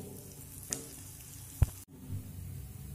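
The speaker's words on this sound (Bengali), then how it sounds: "দিয়ে আরও 1 থেকে 2 মিনিট মতো আমি নেড়ে নেব" Rice flour dough for modak being stirred with ghee in a pan on the stove, a soft steady sizzle with a few scraping clicks, close and quiet, no talking.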